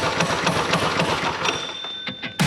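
A motorised esky's small engine idling roughly, a close rapid chugging pulse with uneven knocks that falters toward the end before a sudden loud burst.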